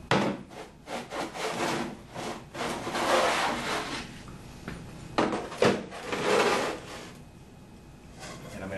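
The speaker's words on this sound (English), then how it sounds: "Scrape that excess clay off." Repeated rough scraping strokes as excess wet clay is scraped off a pottery wheel mat, close and moderately loud, rasping across the surface in uneven bursts with brief pauses between passes.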